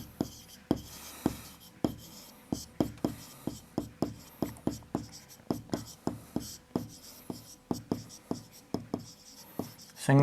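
Chalk tapping and scraping on a board during a class 6 maths lesson, a steady run of sharp, close strokes and taps in an irregular rhythm, with no talking.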